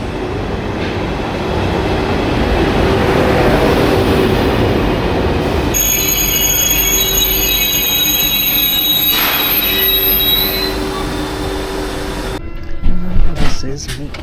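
A train pulls into a station platform with a loud, steady rumble. Piercing high wheel squeals rise over it, then it settles with a few heavy clunks near the end.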